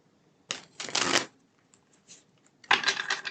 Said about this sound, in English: We're almost done with shuffling the decks here.